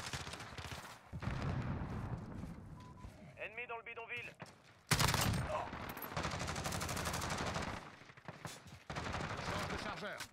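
Bursts of AUG rifle gunfire sound in the video game Modern Warfare, rapid automatic volleys separated by short pauses and mixed with game effects and brief voices.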